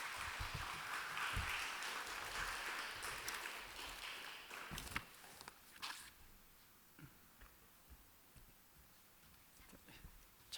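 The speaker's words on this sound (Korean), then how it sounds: "우리 선교사님 나오실 때 한번 박수로 환영하도록 하죠." A church congregation at a Friday worship service claps to welcome a missionary back from Tanzania. The applause is full and steady for about six seconds, then thins to scattered claps and faint room sounds.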